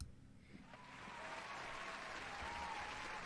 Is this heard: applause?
yes